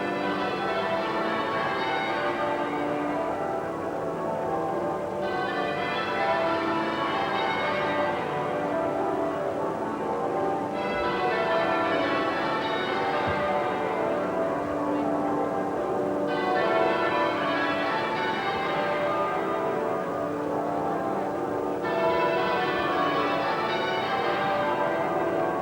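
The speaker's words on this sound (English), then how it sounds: "Westminster Abbey again. The bells still tolling." Church bells of Westminster Abbey toll continuously in a long peal, loud and ringing, with the rounds of pealing swelling and fading in a regular cycle of several seconds each.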